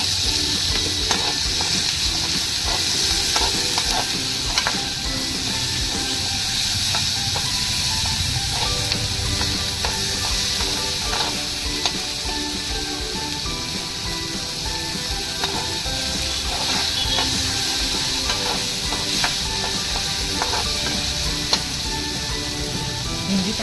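Chopped tomatoes sizzle steadily in a hot pan of oil for spicy okra bhaji, a loud, continuous crackling hiss with occasional pops and stirring scrapes.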